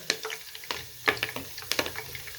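Cloves, black pepper, cumin and curry leaves crackle and pop in hot oil close up for a beef korma tempering, with sharp irregular bursts over a soft sizzle.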